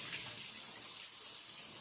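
Soaked peanuts are rinsed under running tap water, a steady, close splashing hiss that holds evenly throughout with no talking.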